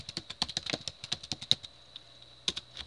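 Rapid clicking keystrokes on a computer keyboard as an email address is typed, an irregular close patter of taps with brief pauses and no talking.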